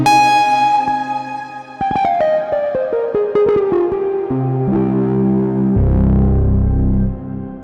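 Distortion effect auditioned in the Soundpaint sampler plugin: a sustained, buzzy harmonic tone that shifts through a series of stepped pitch changes and rhythmic stutters, growing thicker and grittier toward the end, loud and with no talking.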